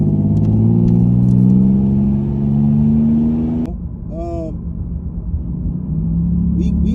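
A 1989 Chevrolet Celebrity V6 runs loud and steady with a deep, throaty idle hum that dips briefly midway, then settles back to a continuous rumble, heard up close.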